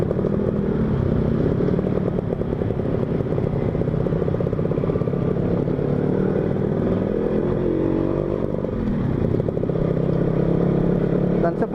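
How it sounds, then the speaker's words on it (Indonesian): A two-stroke motorcycle with a 2 to 2.5 mm ported exhaust revs steadily and loudly with a rough, buzzy rattle, held close and continuous throughout. "seperti itulah suara knalpot 2 mili"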